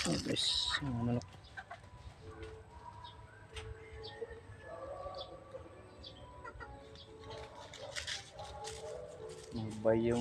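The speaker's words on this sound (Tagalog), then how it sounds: "Sorry tayo sa mga manok guys" Chickens cluck and call around a coop, with scattered nearby clucks and bird noises while people talk over them.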